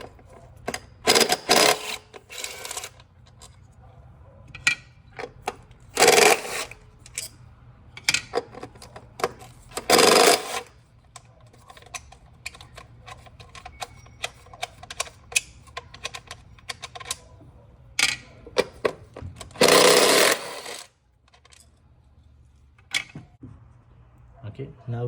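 A ratchet removing the 10mm side bolts that hold the ignition coils on a 2016-2021 Honda Civic, clicking in repeated rapid bursts of ratcheting with clanks and pauses between, fairly loud and close.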